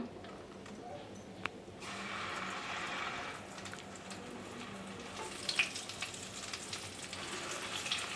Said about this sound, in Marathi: दालचिनीचा एक तुकडा आणि ह्या लवंगा आता थोडंसं आपण हलवून घेऊया